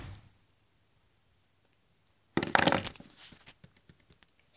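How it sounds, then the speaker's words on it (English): A tag is cut off a Schleich toy horse, heard as a burst of close crackling and crinkling followed by several sharp small clicks and snips after a quiet pause, no talking. "Okay, I'm just going to cut off the tag."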